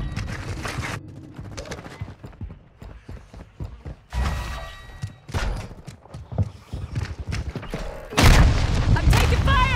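Gunfire and booming blasts in a Call of Duty match, sporadic shots building to a loud heavy burst near the end, with voices and movement noise throughout.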